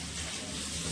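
Hot water runs into a bucket with a steady, close, rushing gush and no pauses.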